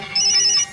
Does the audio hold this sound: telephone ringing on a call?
yes